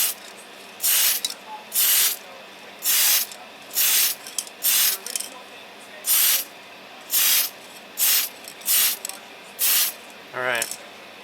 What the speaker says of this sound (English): You start spraying over here, drag it over here, and then release